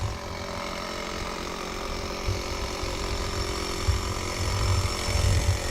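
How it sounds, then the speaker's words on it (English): An air compressor runs steadily and loudly throughout, a continuous motor drone that is heard from up close while a flat tyre is being inflated. "So let's get away from the compressor a bit."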